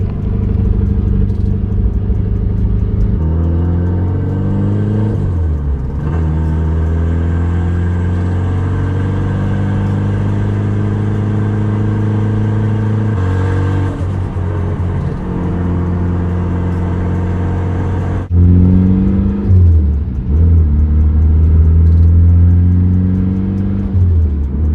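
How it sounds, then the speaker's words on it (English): A Mitsubishi Evo drives along with a steady, loud engine drone from inside the car, the pitch climbing repeatedly through the gears as it accelerates, with brief dips at each shift. "Let's go on a little drive in the Evo, see how good the car runs."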